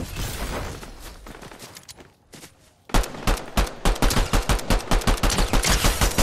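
Rapid gunshots in a Fortnite Chapter 5 Season 4 zero-build solo match. A burst of fire fades, then after a brief lull a loud, rhythmic string of evenly spaced shots runs continuously to the end.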